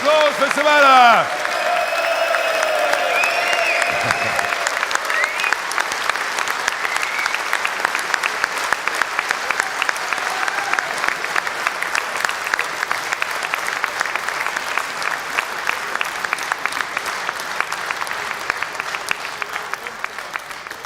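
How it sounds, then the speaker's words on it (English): Sustained applause from a crowd at a Reform UK political rally, dense steady clapping that carries on for about twenty seconds, with a voice briefly heard at the start. "Big round of applause for Suella."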